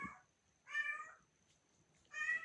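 A cat meows twice, each a short, fairly faint call, separated by a quiet pause with no talking.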